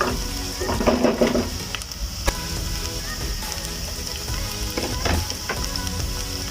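Onions fry in oil in a pan, giving a steady sizzling crackle with a few sharper stirring clinks, close and continuous, no talking.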